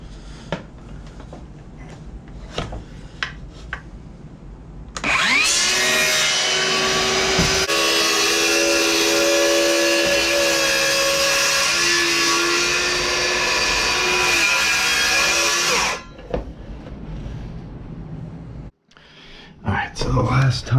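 A vinyl floor tile is cut with a power tool during a kitchen floor install, giving about ten seconds of loud, steady whining buzz, with scattered taps, handling noises and someone talking before and after.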